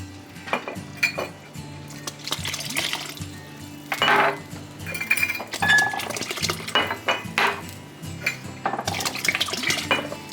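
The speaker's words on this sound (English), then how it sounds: "And now we can add the clam juice." Clam juice glugs from a glass bottle into a pot of clam chowder, with clinking glass and metal and bursts of liquid pouring heard close up over several seconds.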